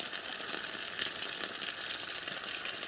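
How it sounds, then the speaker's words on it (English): Gravy heating in a pan toward the boil at an outdoor riverbank cooking spot, a steady, even bubbling hiss running unbroken, with no voices. "Gravy's just coming to the boil."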